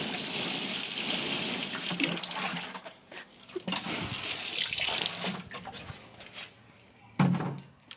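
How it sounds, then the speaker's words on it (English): Water pours into a tub of seed potatoes, a rushing splash that runs steadily at first, then breaks into uneven gushes and pauses with a brief louder slosh near the end, close by and without talk. "all that's left to do then is to water the tub"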